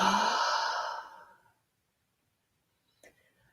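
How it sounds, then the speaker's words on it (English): A loud, breathy exhale during a guided breathing meditation, starting strong and trailing off over about a second and a half into silence, with a faint brief rustle afterward. "Allowing yourself to make a noise as you exhale your breath."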